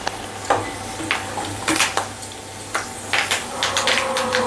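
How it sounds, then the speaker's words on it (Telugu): Curry leaves fried in hot oil in a pan, with a light sizzle under repeated close metallic scrapes and clinks of a spoon stirring against the pot. "వీటిలోని కొంచెం కరివేపాకు కూడా వేయించి తీసుకుందాం."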